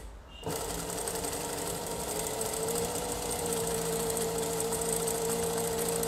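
An electric sewing machine starts up after a brief quiet moment and runs continuously, stitching thin lycra fabric backed with masking tape, a steady close mechanical whir and rapid needle rattle throughout.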